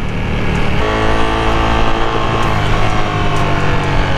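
Ducati Panigale V2 sport motorcycle ridden through Miami, its engine a loud, steady, close drone with a constant rumble and no voices.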